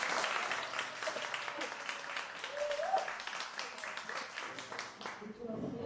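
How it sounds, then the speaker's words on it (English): An audience applauds after a play at a university, with steady, dense clapping that lasts throughout at a moderate level, and voices murmur underneath. "Can we clap hands for them once more?"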